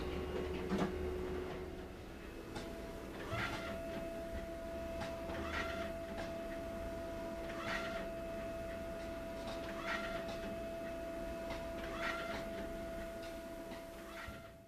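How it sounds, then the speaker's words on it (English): An HP Designjet 500/800 large-format A0 printer works through a sheet, a steady mechanical hum with a sustained whine and rhythmic clicks and squeaks repeating every couple of seconds, close and loud. "the printer printed the pattern and it cut it off"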